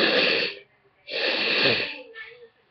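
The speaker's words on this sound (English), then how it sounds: "Hold on, I'm gonna blow my nose." Someone with allergies and sniffles blows their nose in two long, loud honking bursts close to the microphone, followed by a shorter, weaker blow.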